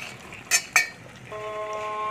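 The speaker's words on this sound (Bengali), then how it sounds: "বেগুন দিয়ে দিচ্ছি, বেগুন দিয়ে কষবো।" A spatula clinks twice against a pan as eggplant is stir-fried for a chicken, eggplant and potato dish. Quiet sizzling sits underneath, and a steady tonal drone follows the two sharp clinks.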